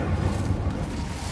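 An Incendio fire spell is cast in a Harry Potter video game, giving a steady, low, rumbling roar that runs loud through the whole moment with no voices.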